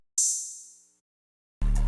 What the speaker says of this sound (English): we got this open hat that sounds like this